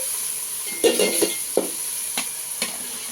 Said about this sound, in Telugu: ఇప్పుడు ఈ టమోటా కూడా వేగిందండి